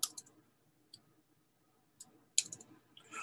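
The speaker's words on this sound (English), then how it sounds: "I type the delete key twice on my keyboard" Sharp, quiet key clicks on a computer keyboard: a few separate taps spaced across a mostly silent stretch, with no talking.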